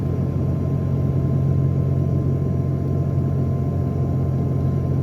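A Mitsubishi Mirage cruising on an interstate, its engine held near 2,000 RPM as a steady low drone and rumble with continuous road noise, with no distinct rise in revs.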